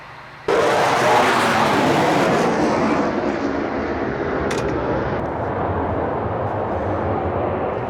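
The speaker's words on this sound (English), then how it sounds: "the F-22 Raptor demo team is lining up for a demo over the sub" An F-22 Raptor jet flies a demo at the Sun 'n Fun airshow, its loud roar bursting in suddenly and holding as a broad, sustained rumble that eases only slightly as it goes.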